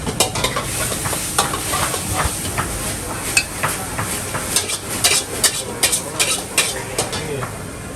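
Sea bass pad cha is stir-fried in a wok, with loud continuous sizzling and hissing and a rhythmic scrape and clatter of a spatula against the pan, heard up close.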